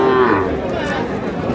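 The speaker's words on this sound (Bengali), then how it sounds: "এটা কি ষাঁড় বাচ্চা?" A young bull calf moos at a crowded cattle market in Raniganj, Dinajpur, one drawn-out low call standing out over steady crowd chatter and other livestock.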